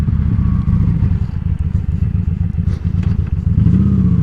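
A motorcycle rolls off and back on the throttle while cornering, its engine a loud continuous rumble close by, with slight shifts in pitch and some wind buffeting.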